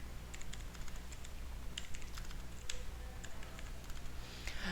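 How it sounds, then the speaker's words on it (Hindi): A computer keyboard is typed on in a quick, continuous patter of close, light key clicks over a steady background hum. "मैं यहाँ पे कुछ लिख टाइप कर देता हूँ कुछ इस तरह से"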